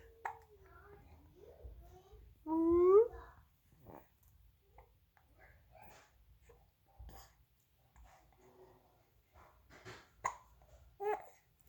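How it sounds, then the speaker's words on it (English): A baby hiccups several times, short sharp catches scattered between soft babbling, coos and quiet adult voices close by. "You're doing your hiccups."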